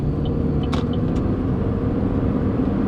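An inexpensive car with a failing CVT transmission pulls away and starts to drive, giving a steady, close, low engine rumble throughout without any speech.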